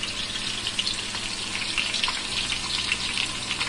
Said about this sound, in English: Frying the onions a bit.